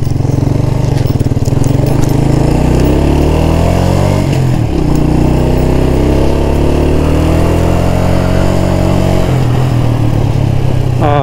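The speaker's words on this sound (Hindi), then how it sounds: "मेरा ख्याल है काजी अता अपना टायर भी टेस्ट करना चाह रहे हैं बाइक का।" A Yamaha 125cc sports motorcycle engine runs loud and close during a tyre test on a village road, revving up and down with rising and falling pitch and a steady mechanical drone, no speech.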